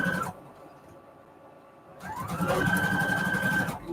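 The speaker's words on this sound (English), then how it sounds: "I had this zigzag stitch on the widest, longest settings." A sewing machine runs a zigzag stitch on fabric at its widest, longest settings. It starts with a brief burst, falls quiet for about two seconds, then sews again with a steady, close whirring hum.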